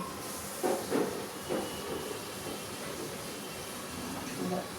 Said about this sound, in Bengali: এখন আমি চুলাটাকে আবার একটু জ্বালিয়ে দিচ্ছি পনিরটাকে ভাজার জন্য